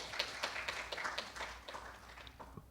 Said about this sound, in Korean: 조비영 교수님께 큰 박수 부탁드리겠습니다